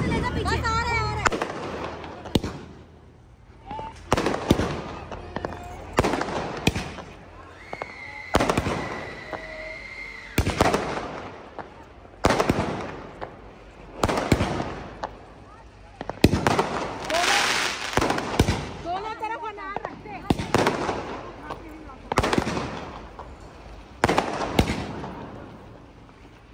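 Sky shot fireworks burst repeatedly during Diwali celebrations, a run of loud, close bangs and crackles scattered through the clip while people talk nearby.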